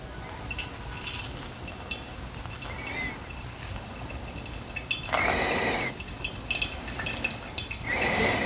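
Water poured from a kettle onto coffee grounds in a pour-over brewer for the first bloom, Honduran coffee; soft splashing and trickling in short bursts, fairly quiet, with no talking.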